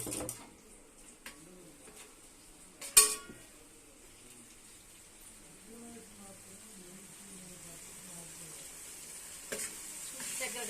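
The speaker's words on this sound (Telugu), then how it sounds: "అల్లం వెల్లుల్లి పేస్ట్ వేసుకుంటున్నాను" Ginger garlic paste sizzling in a pan, a soft, faint sizzle with a few sharp clinks of a utensil against the pan, while someone talks over it.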